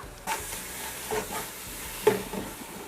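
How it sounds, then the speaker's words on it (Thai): Homemade green curry paste, about five tablespoons, is stir-fried in a pan, giving a soft low sizzle punctuated by a few spatula scrapes and knocks, fairly quiet and without speech. "ผัดให้หอมหน่อยค่ะ เครื่องแกงเรามีกลิ่นหอมมากเลยค่ะ"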